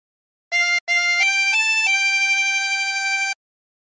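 Harmonica playing the opening phrase of On Top of Old Smokey with single blown and drawn notes on holes 4 through 6, a short note then several sustained tones at a steady, close volume with no talking.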